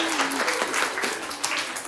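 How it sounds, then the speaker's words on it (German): Audience applause at a regional quiz show final, a steady wash of clapping lasting about two seconds with a faint voice at the start. "Applaus!"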